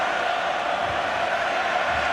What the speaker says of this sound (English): Crowd are chanting.